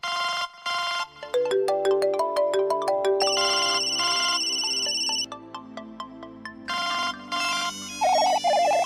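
A mobile phone ringtone plays loud and close: a bright electronic melody of rapid ringing notes that repeats in bursts with brief gaps, heard alone without talk.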